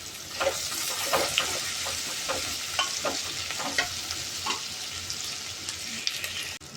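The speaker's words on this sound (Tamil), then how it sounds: "கருவேப்பிலை கொஞ்சம் போட்டு, வரமிளகாய் 3 மிளகாய் போட்டுக்கலாம்." Curry leaves and dried red chillies crackle in hot oil, a close, bright sizzle dotted with sharp pops and stirring clicks that gradually settle toward the end, with no voices.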